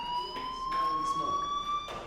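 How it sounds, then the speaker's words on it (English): A fire alarm from the video game Life is Strange sounds as a steady, piercing electronic tone with several bright layers that rises slightly in pitch, holding continuously under faint background game sounds. "Hey, do you hear that fire alarm?"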